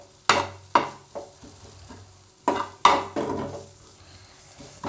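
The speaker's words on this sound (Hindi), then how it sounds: "देखिए हमारी जो गोभी है वो गल रही है, अच्छे से मैश हो रही है" Cauliflower for gobhi paratha softens and gets mashed in a sizzling pan: a ladle strikes and scrapes the metal several times in uneven bursts over a continuous gentle frying sizzle.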